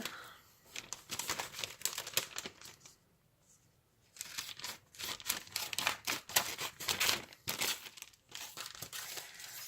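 Paper being quickly cut by hand for a handmade gift box, with rapid crisp snips and rustling close up. A short quiet pause breaks the cutting before it resumes, and no one speaks.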